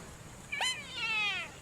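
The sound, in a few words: cat meowing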